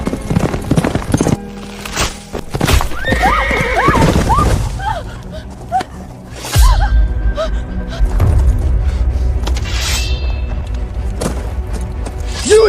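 A horse neighs loudly in a rising whinny while hooves clip-clop steadily nearby, mixed with thuds and other commotion in a dramatic costume scene.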